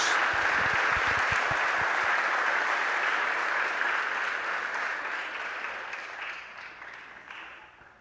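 A large church congregation applauds loudly and steadily, with a few cheers, the clapping slowly fading out toward the end.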